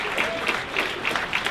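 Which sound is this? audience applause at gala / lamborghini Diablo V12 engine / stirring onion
audience applause at gala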